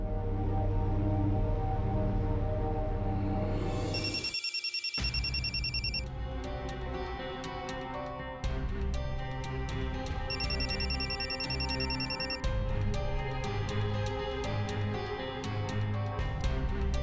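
A telephone ringing during an indoor drama scene, with repeated bright electronic ring bursts sounding clearly over a continuous loud musical score.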